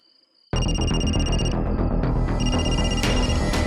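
A telephone rings loudly, its electronic bell tones pulsing in repeated bursts after a brief quiet start, close and insistent.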